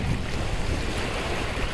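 Strong wind buffets the microphone on the cold Salton Sea shore, a loud steady roar with gusty rumble and no voices.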